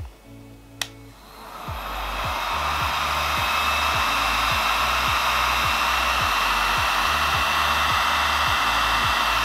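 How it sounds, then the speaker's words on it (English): A heat gun blasting steadily as it shrinks black heat shrink tubing over fan wires, starting with a click and then a loud continuous roaring hiss with a fast pulsing hum underneath. "and we're gonna heat shrink that down"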